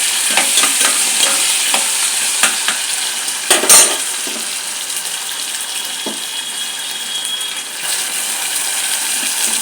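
Green chillies and ginger-garlic paste sizzling in a pan, a loud, continuous hiss of hot oil close by, with a few stirring scrapes and one louder clatter partway through, no speech.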